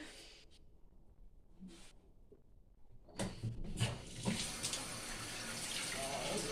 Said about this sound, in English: Wash it out until it runs clear.